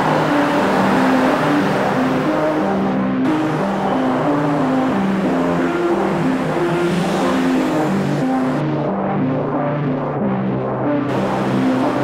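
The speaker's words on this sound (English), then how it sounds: "it's so bloody loud with the road next to me" Loud, continuous rumble of nearby road traffic on a Hong Kong street at night, with engines droning and revving and vehicles passing close by throughout.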